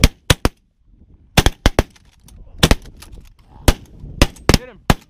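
Gunfire cracks out in sharp bursts, single shots and quick doubles scattered irregularly and close by, with people shouting and talking between them.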